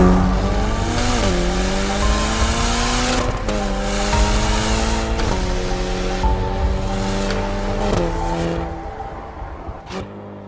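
A Ferrari California T with a turbocharged V8 drives past, its engine rising through several gear changes in a steady rhythm of climbing and dropping tones, loud and close with no voices.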